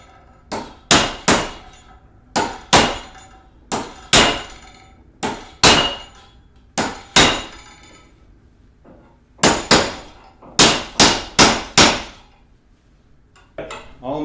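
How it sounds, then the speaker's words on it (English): Repeated mallet blows on a large bolt driving a stuck axe head off its handle: loud ringing metallic clangs, mostly in pairs and triplets with short pauses, over a quiet background. "Let's see if I can drive it out with a mallet and just a big old bolt."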